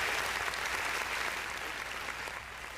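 An audience claps continuously at a dance competition, a dense, steady wash of applause that holds loud throughout and tapers only slightly near the end.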